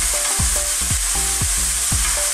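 A Filipino ginisang upo sauté of pork, tomato and upo squash stirred in a pan: loud constant sizzling broken by a regular rhythm of spatula scrapes against the pan, no speech.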